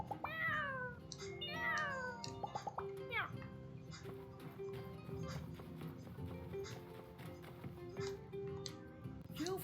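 A cat in the video game My Time at Sandrock gives several rising meows near the start, followed by clopping and other game sounds, with a voice talking alongside.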